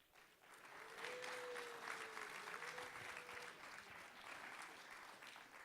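An audience applauds its MC at the TiECon Florida 2018 awards ceremony, steady clapping that swells quickly and holds for several seconds at moderate loudness, with a faint tone running briefly underneath.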